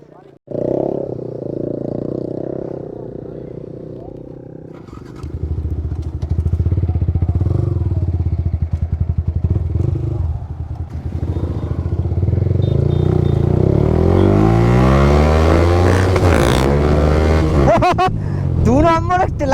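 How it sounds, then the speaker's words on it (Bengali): A motorcycle engine revs hard during a wheelie, rising roars and repeated throttle surges that climb in pitch toward the end, close and loud, with a brief rumble at the start. "তাও মনে জোর জাবস্তি চলে গেছে বাইক নিয়ে উইলি মারতে"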